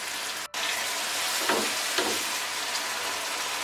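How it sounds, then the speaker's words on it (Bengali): Dried loitta fish sautés in a pan over medium-low heat, giving a steady broadband sizzle with a few brief stirring scrapes, close and continuous, with no voices. "পাঁচ মিনিটের মতো এটা আমি কষাবো"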